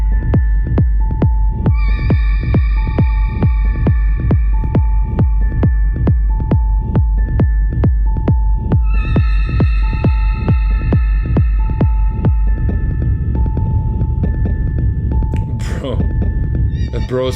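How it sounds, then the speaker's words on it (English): Creepy horror-style synth throbbing from a feedback loop, an evenly pulsing low thump like a heartbeat under sustained eerie tones, loud and continuous, with a noisier rumbling stretch near the end. "creepy-ish, horror-ish sounds."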